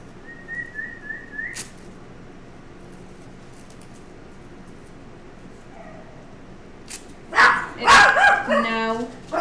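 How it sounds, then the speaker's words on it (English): A dog barks in a quick burst of several sharp barks near the end, loud and close, after a faint whistle-like tone and quiet room sound. "Probably a dog trying to get out to another dog."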